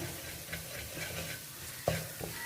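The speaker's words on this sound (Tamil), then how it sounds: "இது எல்லாத்தையும் நல்லா மிக்ஸ் பண்ணிக்கலாம் எல்லாத்தோடையுமே" Scrambled egg stuffing is stirred in a hot pan, with a soft, steady scrape and low sizzle throughout and one sharp utensil clack near the end.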